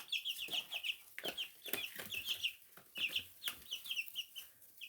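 Day-old-style twelve-day chicks cheep in rapid, high bursts with occasional soft clucks, close and fairly quiet, in a busy overlapping flutter of calls.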